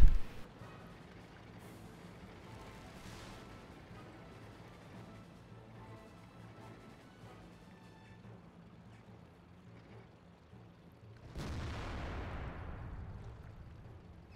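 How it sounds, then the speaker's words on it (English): Tank cannon fire in World of Tanks, including a German tank destroyer and an E-100: a sharp blast at the start, a rumbling lull, then another heavy booming shot with a long roaring decay, no talk. "that German TD is just gonna round the corner and instantly vaporize the E-100 without even needing to aim."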